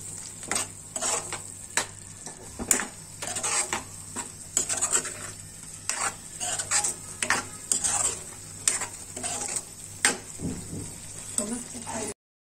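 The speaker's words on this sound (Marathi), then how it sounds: "आणि नंतर त्याच्यात हे जे आपण दाणे शिजवले ते ऍड करूया. आणि हे सगळं नीट एकत्र करून घेऊया." Spoon scraping around a pot as cooked val beans (field bean seeds) are stirred into a simmering Maharashtrian usal curry; repeated close scrapes and clinks over a soft bubbling sizzle, with faint voice-like sounds in the background.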